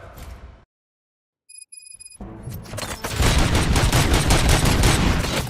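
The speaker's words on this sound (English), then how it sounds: "Gunshots? What's going on?" Gunfire in the RoboCop: Rogue City video game: a short burst, then silence and a few faint electronic tones, before a loud, sustained fusillade of overlapping shots and booms builds and keeps going.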